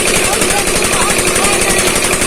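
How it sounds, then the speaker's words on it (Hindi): A village engine driving a tubewell pump runs loud and steady, with a rapid, even chugging pulse throughout and no pauses. "ये इंजन जो है ये चल रहा है और ये ट्यूबवेल चल रहा है"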